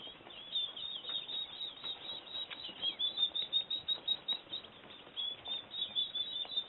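One-day-old bobwhite quail chicks under a heater chirp continuously, a faint dense chorus of high peeping with soft pattering, no voices.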